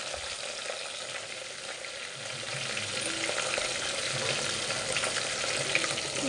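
Mint, curry leaves and coriander frying in a pan for tomato rice, a bright, continuous sizzle with stirring that grows a little louder halfway through, close and alone without talk.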